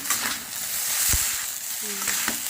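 Veg noodles with sauce being stir-fried on high flame, giving a steady hissing sizzle broken by a few brief scraping and clanking stirs, moderately close.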